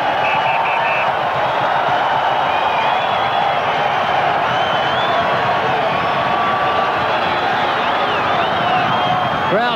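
Rugby league crowd in a packed stadium reacting to a high tackle, a steady loud roar with rising whistles and jeers across the whole stretch, sustained and dense without pause.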